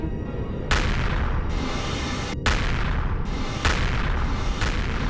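A cannon fires repeated shots, four heavy booming blasts at uneven intervals of about one to two seconds, each loud and close over a constant rumbling roar with no pauses into silence.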